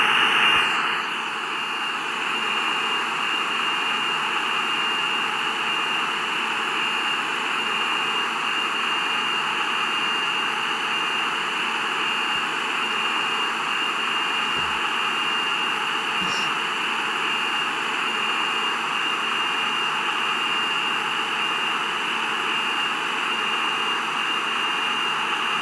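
Simulated Boeing 747 jet engines in the flight game Simple Planes roar as the aircraft keeps accelerating, a steady loud broadband rush with a high whine held constant throughout, no voices.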